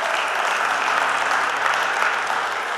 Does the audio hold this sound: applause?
yes